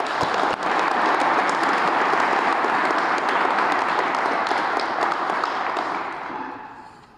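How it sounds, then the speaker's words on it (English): An audience at a police chief's swearing-in ceremony applauds the honor guard, a loud, dense burst of clapping that holds steady for several seconds and then fades out toward the end. "Could we please give the honor guard a round of applause for that?"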